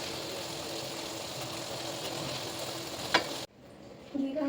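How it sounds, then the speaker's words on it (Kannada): Avare kallu palav, a Karnataka rice dish with field beans, is stirred in a pot, giving a low steady sizzle and scraping with one sharp clink before the sound drops away. "ಅವಾಗವಾಗ ಈ ಥರ ಕಲಿಸ್ಕೊತೀರಿ"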